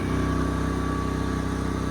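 A GENMAX 10500iETC tri-fuel inverter generator runs wide open at 3600 RPM, giving a loud, steady, close engine drone with a fine regular pulse and an even hum.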